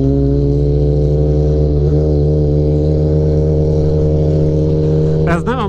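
A motorcycle engine holds a loud, steady high-revving drone throughout, strong and close, with a brief change in pitch near the end.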